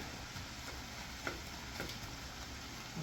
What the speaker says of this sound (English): I'll give her a stir and a breakup